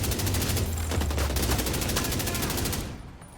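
Assault rifle fire in The Division 2 rattles out as a rapid, loud burst of evenly spaced shots over heavy low rumble, stopping abruptly near the end and leaving only a quieter tail.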